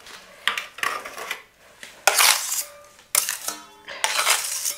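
A steel spatula is pressed into a corner and dragged across a freshly plastered wall, giving repeated close scraping and rasping strokes with short pauses between passes and no talking.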